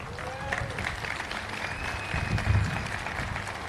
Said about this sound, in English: a round of applause of everybody here that has made this possible